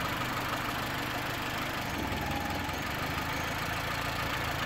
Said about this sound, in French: Pas stable le ralenti